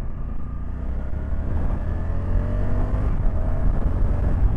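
A 2024 Honda CRF1100L Africa Twin motorcycle engine pulling uphill in second gear, a steady close low rumble that builds slightly as it climbs, with no talk.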